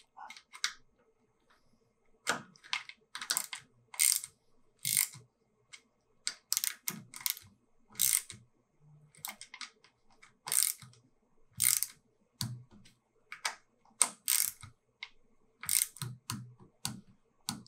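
A torque wrench on motorcycle steering stem bolts makes intermittent bursts of close, crisp ratcheting clicks separated by short quiet pauses, with no talking.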